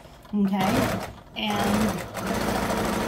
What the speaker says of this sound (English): I'm going to do another sewing line